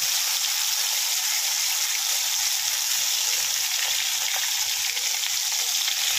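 Pointed gourd peel paste fries in hot oil with a loud, constant, close sizzle, a bright steady hiss that holds unbroken throughout.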